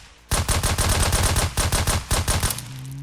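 Rapid automatic gunfire in the zombie survival game SurrounDead, a loud sustained burst of about a dozen closely spaced shots that stops abruptly, followed by a low steady hum.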